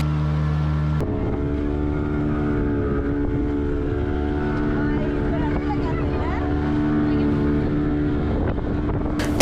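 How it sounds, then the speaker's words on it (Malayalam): A speedboat cruising on open water at Muttukadu boat house, its engine a steady loud drone with wind buffeting throughout, ending in a sharp bump near the close. "സ്പീഡ് ബോട്ടിലെല്ലാം നമ്മൾ യാത്ര ചെയ്യുമ്പോൾ നല്ല സ്പീഡിലായിരിക്കും പോകുന്നത്"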